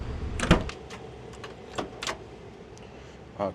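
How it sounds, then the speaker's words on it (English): A 1970 Chevelle SS 454 restomod's doors opening, a few close metallic clicks and latch clunks spaced over a few seconds, with a final soft thud at the end. "Doors open wonderfully."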